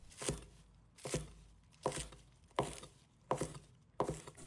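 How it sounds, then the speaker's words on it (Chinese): A kitchen knife chops spring onions and coriander into short lengths on a board. Six crisp, evenly spaced cuts land roughly every seven-tenths of a second, close and clear against a quiet background. "再准备2根小葱和香菜，把它切成小段。"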